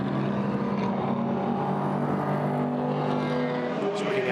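Race cars circulating behind a safety car on a wet track, a continuous engine drone that holds steady and fairly loud throughout.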